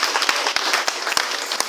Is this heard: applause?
yes